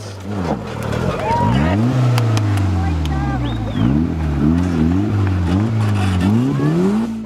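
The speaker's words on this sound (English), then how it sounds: "He revs away and ramps up the exit." A 4x4 off-road vehicle revs hard at a competition obstacle, climbing the exit ramp in repeated loud rising engine surges close to the microphone, with commentary talk running over it throughout.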